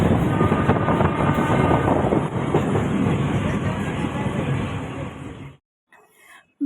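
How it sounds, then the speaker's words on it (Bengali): A departing train rolls along loudly nearby with a continuous rumble and rattling wheel noise for about five seconds, then cuts to near silence with faint background sounds. "এই যে দেখো আমাদের ট্রেনটা ছেড়ে দিয়েছে"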